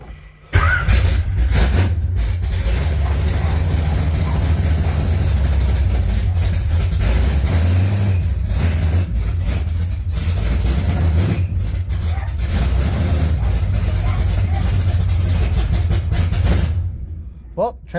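A car with a TH400 transmission is started and left running, a loud steady low engine rumble filling the whole stretch with a noisy belt, then cutting off near the end.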